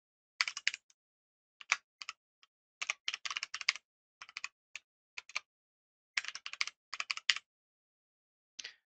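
Bursts of typing on a computer keyboard while entering code for a UVM test of a simple adder, quick clusters of crisp clicks with short pauses between, close and clear with no talk.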